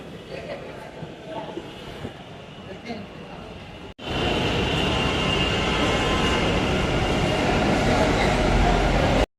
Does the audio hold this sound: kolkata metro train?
yes